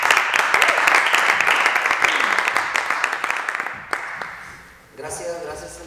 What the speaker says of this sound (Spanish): si lo recibimos con un fuerte aplauso